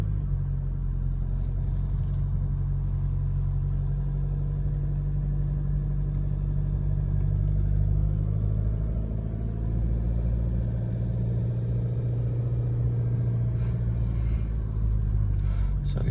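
A 2021 Toyota Hilux 4WD creeps slowly along a steep one-lane road, its engine giving a steady low rumble heard from inside the cab, even and unbroken throughout.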